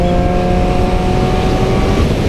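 A 2017 Yamaha YZF R6 motorcycle runs at a steady, loud, close engine drone, with a constant roar and wind rush and no pauses in the sound.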